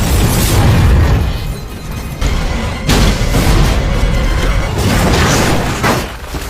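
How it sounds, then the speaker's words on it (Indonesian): Heavy explosions and rumbling blasts fill a Die Hard action scene, with a dense, loud roar that swells and pulses continuously and no clear pauses. "Sayangnya di tengah percakapan, ledakan mulai terjadi."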